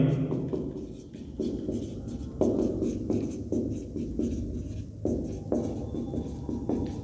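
Chalk or marker writing an equation of a straight line on a classroom board, with steady scratchy strokes and short taps repeating in irregular bursts, close and fairly loud, with no talking.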